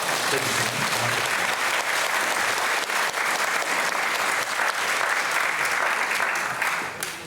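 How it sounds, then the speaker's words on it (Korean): An audience of pastors gives themselves a warm round of applause, a dense, steady wash of many hands clapping at close range that runs for the whole stretch without a voice over it. "스스로 자화자찬 뜨거운 박수를 스스로에게 해주시면 고맙습니다."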